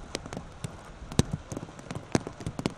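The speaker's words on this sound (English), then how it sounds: "You hear the rain coming down even harder." Rain falls hard on an outdoor women's college lacrosse field, a steady broadband wash with scattered sharp thumps and clicks, with no talk over it.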